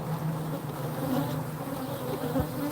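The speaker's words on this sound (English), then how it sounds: "stuffed with bees" Honeybees packed densely inside an opened hive box give off a steady, close, loud droning buzz with a low hum, holding even throughout with no voices.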